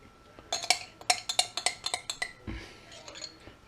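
A metal spoon scraping the last of some tikka masala paste from a jar makes a quick run of close, bright clinks and taps, then a softer scrape at the end.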